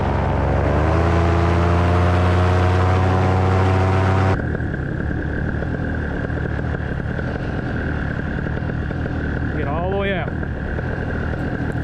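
A paramotor engine winds up to full throttle beside a lake, a loud, rising buzzing drone close by that suddenly gives way to rushing wind noise with a thin steady tone.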